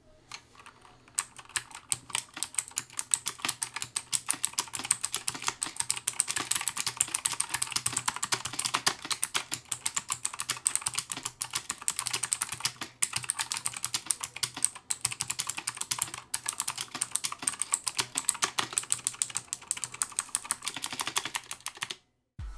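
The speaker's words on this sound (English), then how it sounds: "here's a quick sound test of these mem-chanical keys" Rapid, continuous typing on a Cooler Master MasterSet MS121 hybrid mem-chanical keyboard, dense clicky keystrokes for about twenty seconds, close and fairly loud, stopping abruptly near the end.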